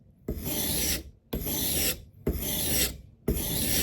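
A knife blade drawn across a sharpening stone for outdoor bushcraft use gives four steady, close rasping strokes, each about a second long with brief gaps between.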